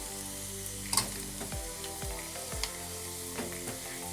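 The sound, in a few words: onions frying in oil until golden brown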